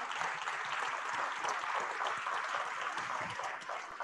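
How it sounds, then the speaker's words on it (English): A seminar audience in a hall applauds, producing a dense, steady wash of clapping held at a moderate level for several seconds, with no speech over it. "that deserves a big old round of applause"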